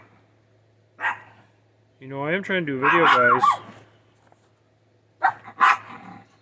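Pet dogs bark indoors in a close, loud flurry of several overlapping barks and growly yelps, with a shorter burst at the end, while someone talks briefly between them.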